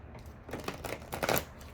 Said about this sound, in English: Shuffle this again.